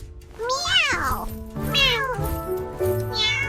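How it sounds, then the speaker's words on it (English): A cat gives three distinct rising-and-falling meows in close succession, near and clear, with little else around. "Meow! Meow!"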